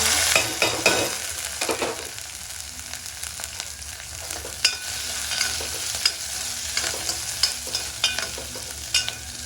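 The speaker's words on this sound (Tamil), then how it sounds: "இந்த வெங்காயம், மாங்காய், இஞ்சி, பச்சை மிளகா, கருவேப்பிலை எல்லாத்தையும் போட்டு" Onion, raw mango, ginger, green chilli and curry leaves sautéing in hot oil after mustard seeds and urad dal, a continuous bright sizzle with frequent spoon scrapes and clicks, close and with no voices.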